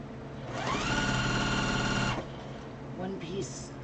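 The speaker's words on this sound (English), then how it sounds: "you're going to sew one piece to this block" A sewing machine runs in a steady buzzing burst for about a second and a half while stitching small quilt block pieces, then stops, followed by a brief quiet voice.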